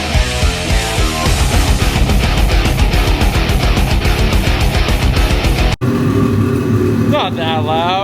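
A freshly rebuilt motor, likely a snowmobile's, runs loud and steady up close with a dense, pulsing drone, then cuts briefly and resumes at a lower idle as people talk nearby.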